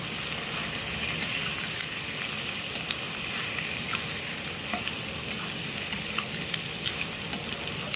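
Chicken chotpoti masala with chilli powder sautés in a pan with a dense, continuous close sizzle, broken by light stirring scrapes throughout.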